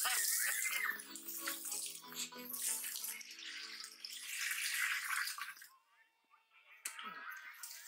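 Water is splashed and poured out in large amounts during a festive Holi celebration in a film scene: rushing, gushing water with wet splatters, loud and close, then it briefly thins out before a fresh surge.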